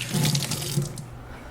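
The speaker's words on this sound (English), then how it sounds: "I'm going to get my hands wet" Tap water runs steadily into a kitchen sink as hands are wet while shaping a ham and cheddar cheese ball, a close, continuous splashing stream that thins out toward the end.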